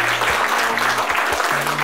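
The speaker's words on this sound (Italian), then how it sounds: "Facciamo un applauso." A crowd claps loudly and steadily, with a low musical tone playing underneath.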